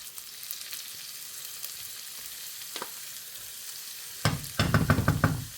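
Faint sizzling of pork in a pan, then louder bursts of frying and stirring scrapes near the end, with no voices.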